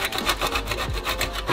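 Parmigiano Reggiano cheese rasped on a grater for meatballs, quick rhythmic scraping strokes close up and fairly loud, with no talking.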